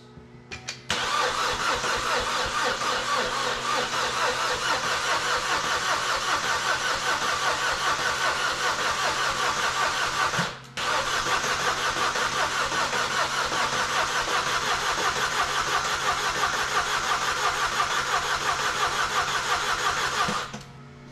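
A 2012 Chevy Cruze engine cranks and catches, then runs steadily at a loud, close idle for about twenty seconds, with a short break partway through before it settles back into a constant hum.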